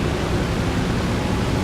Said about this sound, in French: c'est le bruit des moteurs